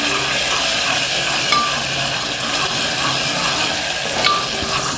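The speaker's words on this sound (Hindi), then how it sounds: "अब हम इसमें डालेंगे अदरक लहसुन का पेस्ट। इसे अच्छे से मिक्स कर लीजिए।" Ginger garlic paste frying with light golden-brown onions in a pan, stirred steadily, with a constant close sizzle and a couple of soft scraping touches.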